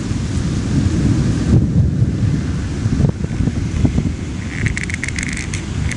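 A thunderstorm over a foggy creek, heard as a continuous heavy rumble with rain and wind buffeting the microphone, loud and steady throughout.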